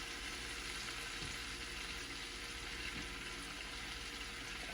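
A spicy seafood boil sauce with Old Bay, Cajun seasoning and cayenne is stirred in a pot, giving a soft steady sizzle with faint scraping, quiet and close.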